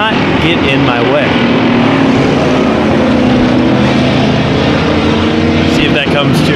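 Factory stock race car engines roaring continuously at Havasu 95 Speedway, a dense loud drone of several cars on the oval under a commentator's steady talk.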